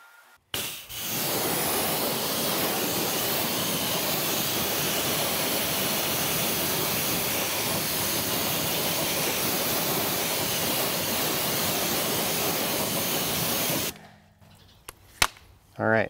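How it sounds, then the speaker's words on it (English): Steady, loud hiss of a water spray rinsing a wheel and tire during a product test, continuous and close for about thirteen seconds before cutting off abruptly, followed by a few faint knocks. "then we're going to rinse it off with no agitation"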